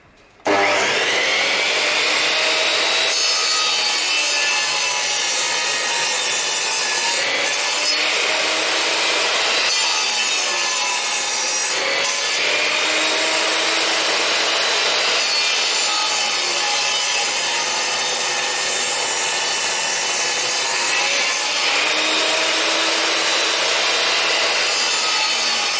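A hand saw cuts through scrap wood for a mallet in a steady, continuous back-and-forth rasp, loud and close, running unbroken for the whole stretch with no talking.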